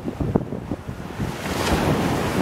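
Gusty wind buffeting the microphone outdoors, with low rumbling blasts rising and falling over a constant airy rush.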